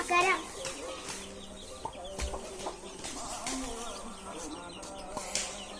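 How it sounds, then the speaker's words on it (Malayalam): Hens and chicks cluck and peep nearby in a home yard, with repeated short calls over a steady background and faint voices in the distance. "കോഴിക്കുട്ടികളെ നോക്കട്ടോ."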